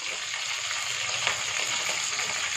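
Onion and green chili sautéing in a pan with dal, giving a steady, close hiss of frying that holds without a break, with one soft stir partway through.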